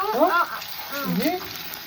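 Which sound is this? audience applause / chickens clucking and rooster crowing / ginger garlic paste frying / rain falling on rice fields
ginger garlic paste frying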